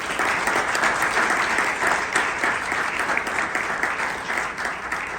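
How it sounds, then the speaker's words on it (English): Sustained applause from a crowd, steady dense clapping filling the whole stretch with no voices rising above it. "I'm going to give them another round of applause"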